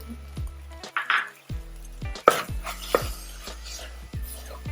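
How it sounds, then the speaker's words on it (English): A spoon stirs chili powder into a pot of chili, giving a few wet squelching scrapes and clinks against the pot, loud and close, with soft thumps between strokes. "Gonna mix that in really well."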